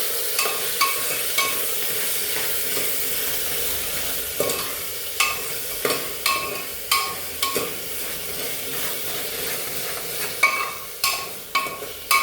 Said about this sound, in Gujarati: આપણે આપણા કાપેલા બટેકાને આની અંદર આપણે નાખી દઈશું અને 2 થી 3 મિનિટ સુધી આને તળવા દઈશું અને સાથે સાથે મિક્સ કરતા રહીશું